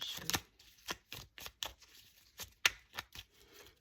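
Oracle cards shuffled for an angel card reading, a quiet run of soft riffling bursts in an uneven rhythm, close by and alone with no talk.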